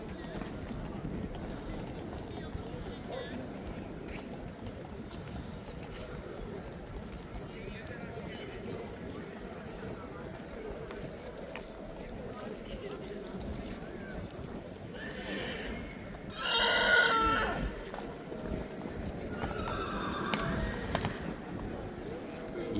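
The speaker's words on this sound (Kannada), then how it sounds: "ಕುದುರೆ ಸೌಂಡ್ ಮಾಡೋದು ಯಾವತ್ತೂ ಡೈರೆಕ್ಟಾಗಿ ಕೇಳಿರಲಿಲ್ಲ" A horse, about nine feet tall and pawing the ground, whinnies loudly partway through, a sharp bright neigh, amid shuffling hoofbeats and muffled voices nearby in Krakow town center, Poland.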